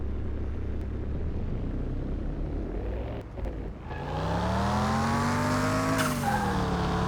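Car with a failing transmission driven in Car Mechanic Simulator 2021, a steady engine drone that dips, then climbs into a rising whining rev with a pitch that sweeps and wavers.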